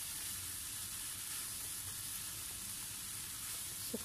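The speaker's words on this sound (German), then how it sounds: "So kurz weiter gebraten, bis die Paprika etwas die Soße oder Gewürz annehmen." Green beans and peppers frying in red curry in a pan, a steady close sizzle with faint stirring, no talk.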